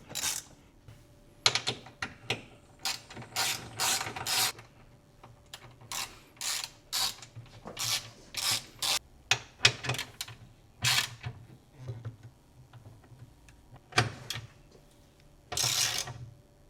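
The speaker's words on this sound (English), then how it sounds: "now I've tightened it all up with just my normal ratchet" A hand ratchet tightens strut tie brace bolts on a Toyota GR Supra, producing close, repeated bursts of rapid clicking with short pauses between strokes.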